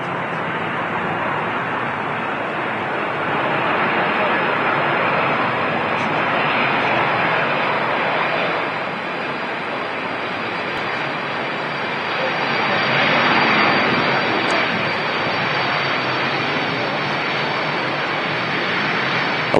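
Boeing 747 departing Manchester Airport, a broad, sustained jet roar that builds and swells gradually, peaking near the end as the aircraft climbs out, loud and continuous without pauses.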